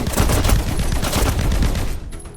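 Gunfire in the video game Snake Force comes as a loud, rapid automatic barrage, continuous for about two seconds before cutting off abruptly.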